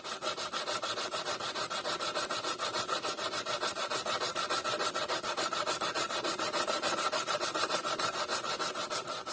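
Steel blade rubbed back and forth flat on a sharpening stone or sandpaper to remove rust and pitting, a steady rhythmic rasping scrape close up and unbroken throughout.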